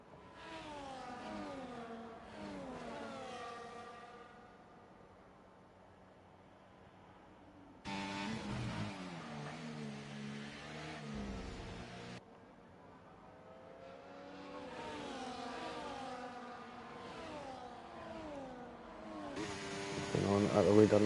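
Racing cars at high speed on the Zandvoort circuit in a racing video game, their engines whining and rising and falling in pitch at a steady loud level beneath continuous commentator talk.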